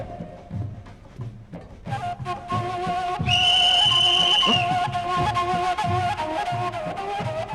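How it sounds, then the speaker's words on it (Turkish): A whistle is blown indoors, a shrill sustained tone rising over a busy room with people talking and moving about in the background. "Düdük çalmasana."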